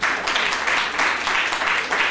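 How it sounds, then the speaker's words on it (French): An audience applauds for a presenter at an event, a dense, even wash of clapping in a steady, gently pulsing rhythm with no voices over it. "qu'on peut applaudir aussi"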